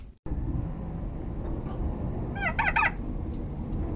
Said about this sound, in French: C'est triste la vie d'un dindon.